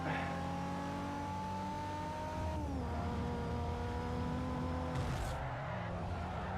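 DeLorean engine in the racing game Forza Motorsport 4, revving with rising tonal whine, dropping pitch on a gear change, then climbing again; steady, clean and without talk.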